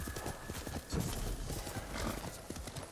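Hooves of a horse galloping in the samurai video game Ghost of Tsushima, a rapid rhythmic pounding over a soft outdoor ambience, with a brief snort or whinny.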